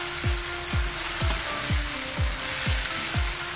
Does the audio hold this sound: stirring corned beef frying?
yes